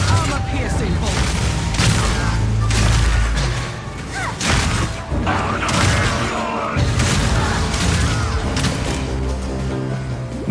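Crossbow bolts fire during Path of Exile 2 combat, including permafrost, incendiary and armor-piercing bolts, against a mini-boss. Dense, loud bursts of impacts, booms and thuds run continuously with no pause.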